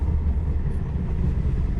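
Steady low rumble and rattle inside a moving Egyptian sleeper train, a continuous loud droning hum without pauses and no speech.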